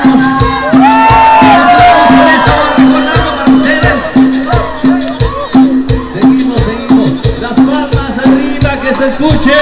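Crowd at a 2022 town fair concert in Soteapan, clapping in a steady rhythm and shouting over loud live band music, with voices mixed into the din.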